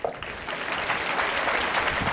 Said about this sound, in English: Clap if you can.